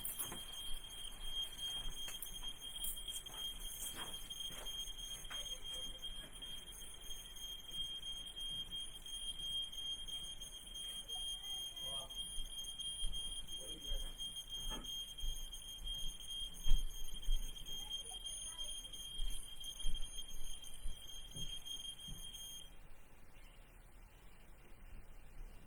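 A high, steady electronic alarm tone sounds continuously for most of the stretch, faint under low room noise with scattered knocks, then cuts off near the end.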